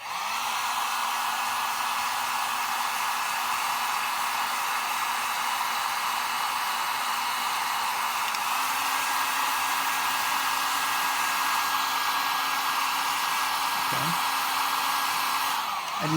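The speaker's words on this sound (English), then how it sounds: "I heat it slightly with a heat gun." A heat gun blows steadily on paraffin wax spread over canvas, giving a loud, continuous airy roar with a faint motor whine that holds level throughout.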